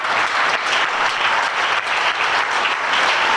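A church congregation applauding during a prayer service, a dense steady burst of clapping from many hands filling the room, loud and continuous with no voices standing out.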